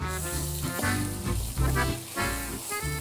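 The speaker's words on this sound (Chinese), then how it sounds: "所以现在我们就会炒那个辣椒糊。" Chili paste stir-fried over high heat for chili crab gives a loud, continuous sizzle and crackle that holds steady for the full three seconds, with no talk over it.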